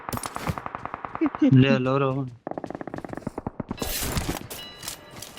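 Rapid bursts of shotgun fire in the mobile game BGMI, several quick shots in sequence, with bits of other game noise between them.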